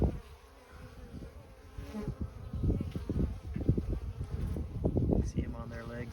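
Honeybees buzz steadily at the entrance of a nuc hive as foragers return carrying pollen, a close droning hum that swells and wavers, with a faint voice at times.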